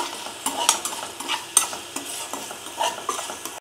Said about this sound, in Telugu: నెక్స్ట్ ఉల్లిపాయ గోల్డెన్ బ్రౌన్ షేడ్లోకి వచ్చే వరకు అయితే మనం వేపుకోవాలండి.